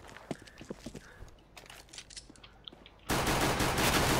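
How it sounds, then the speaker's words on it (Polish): Counter-Strike: Global Offensive gameplay with scattered light clicks and steps, then a sudden loud, sustained burst of rapid automatic gunfire that runs to the end. "Ja strzelam wszędzie."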